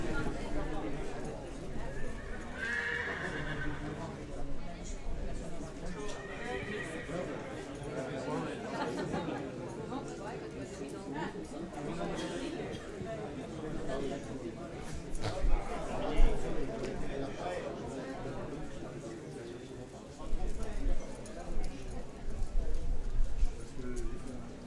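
Horses at an AQPS horse show and sale at Le Lion d'Angers clip-clop steadily, with an occasional neigh, under constant crowd chatter and voices; the hoofbeats grow louder toward the end.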